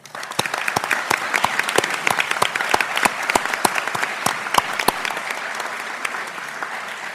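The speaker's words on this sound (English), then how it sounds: "we need to give them a round of applause." A school board meeting audience breaks into applause, a dense, even patter of many hands clapping close by, strongest early and tapering slightly toward the end.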